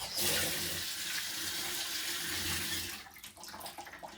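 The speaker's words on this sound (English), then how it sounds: "Just rub some water over it." A kitchen sink tap runs in a steady close rush of water while something is rinsed, then the flow cuts off into scattered drips and splashes.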